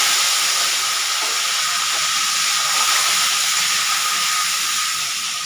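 Cut potatoes hit hot oil seasoned with cumin, bay leaf and whole garam masala, producing a loud, steady, broadband sizzle that fills the whole clip without breaks.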